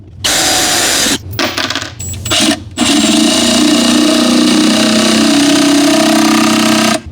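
A power drill pre-drills screw holes in wooden drawer fronts during cabinet installation, whirring loudly in a short burst, stopping briefly, then running again in a long continuous spin.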